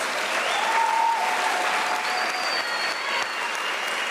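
Sustained applause from a large graduation audience at a university spring ceremony, steady and dense throughout, with a faint whistle or cheer rising above the clapping.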